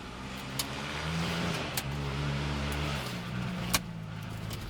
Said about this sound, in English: there's some kids on dirt bikes back there